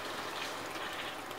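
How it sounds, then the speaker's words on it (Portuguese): Coconut milk pouring into a pan of fish stew, a steady, soft liquid rush lasting a moment with no voices. "Colocamos agora a meia garrafinha de leite de coco."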